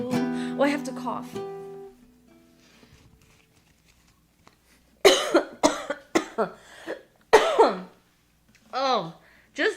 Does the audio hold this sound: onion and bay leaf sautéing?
no